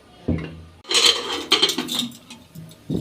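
A metal lid clatters onto a pot of dal in a kitchen, giving a cluster of sharp clanks and rattles close by, followed by a few lighter clinks.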